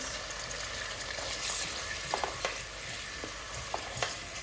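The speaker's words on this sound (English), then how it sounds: "We want to have a good fry on the onions." Onions frying in a pot for tuo zaafi stew, giving a dense, steady crackling sizzle with a few light knocks and scrapes of a stirring spoon near the end, close up and without any voices.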